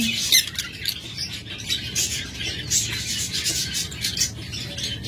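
Caged lovebirds squawk and chirp in sharp, repeated high calls over a steady background murmur, fairly close, with no talking.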